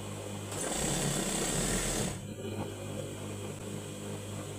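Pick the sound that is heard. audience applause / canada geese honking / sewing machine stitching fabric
sewing machine stitching fabric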